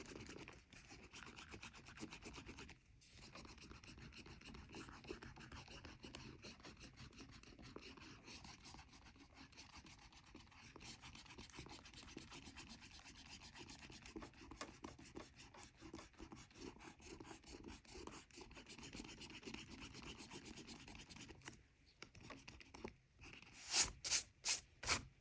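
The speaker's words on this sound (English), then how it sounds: "I'm going to take my eraser and get rid of some of these lines" A pencil eraser is rubbed back and forth over pencil lines on paper while a drawing is shaded, giving soft, rapid scrubbing strokes that keep going with only brief pauses.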